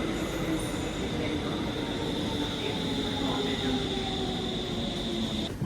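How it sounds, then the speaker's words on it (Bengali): A train rumbles into a station in Stockholm, Sweden, with a steady roar and a high metallic squeal of wheels, continuous and loud, with voices faintly beneath. "এই যে আমাদের ট্রেন চলে আসছে"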